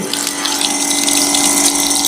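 Coolant gushes from a tank pump onto the drill of a radial drilling machine, a loud, steady splashing liquid stream with a constant pump hum, close and continuous.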